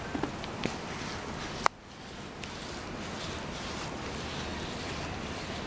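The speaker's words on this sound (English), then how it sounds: "It's hailing at our house." Hail falling on and around a house in Auckland gives a steady dense hiss of pellets with a few sharper hits near the start, then a brief thump before the continuous rattle carries on.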